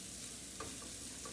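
Water poured into a hot pan of Mexican chicken and rice gives a faint, steady hiss and sizzle with a couple of soft clinks, no voices.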